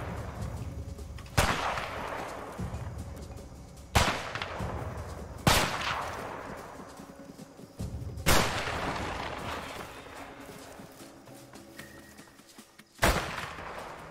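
Five sharp, booming sniper rifle shots ring out in a video game, spaced a few seconds apart, each with a long fading echo and a loud close report.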